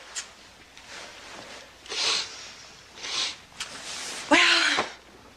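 A single sharp sneeze near the end, preceded by faint sniffs and breathy noises, fairly close.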